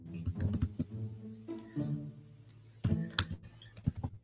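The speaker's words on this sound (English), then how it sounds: "Are you typing away on me?" Clattering keystrokes on a computer keyboard come in uneven bursts and pauses, close and fairly clear, with faint voices low in the background.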